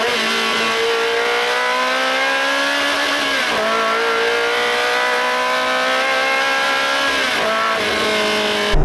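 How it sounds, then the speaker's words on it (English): Ferrari 360 Challenge Stradale with a loud factory exhaust, driven: a steady, strong engine note holds and shifts in pitch, dipping briefly twice as it is driven, loud and close with no talk. "We have got an exhaust system back there that is probably the loudest that came out of the factory."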